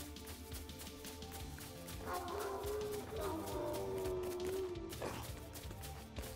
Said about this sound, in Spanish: Estoy escuchando lobos por aquí